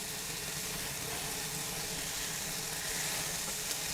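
Korean short ribs in a sugary marinade sizzle steadily on a hot grill while being flipped, a dense continuous hiss with no voices over it.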